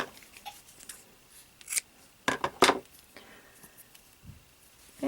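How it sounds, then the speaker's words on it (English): Scissors snip through yarn tails on a crocheted amigurumi piece, a few sharp close cuts bunched together with light rubbing handling noises between them, quiet and without talk. "Okay, now I can cut free."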